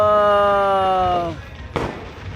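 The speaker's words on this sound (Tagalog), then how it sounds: "Fireworks! Whoa!" A New Year's Eve firework gives a sustained whistling tone that drops away, followed by a sharp burst, loud and fairly close.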